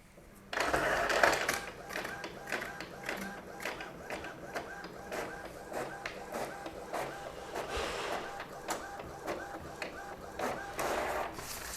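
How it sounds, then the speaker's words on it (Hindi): A POS bill printer runs off an A5 bill printout, a steady mechanical buzzing and clattering print-head chatter that starts abruptly and continues for several seconds with rhythmic pulses, close and moderately loud. "चलिए ये प्रिंट आउट एक बार देखते हैं।"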